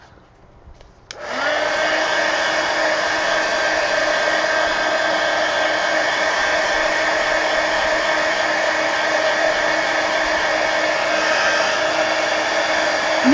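A hair dryer blowing on a mixed media art journal page switches on after a second of quiet, then runs as a steady, loud, even whir for the rest of the time.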